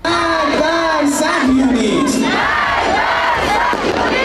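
A large crowd celebrating the Hamas attack on Israel roars with loud, chanted shouts and cheers that rise and fall in waves, close and dense throughout.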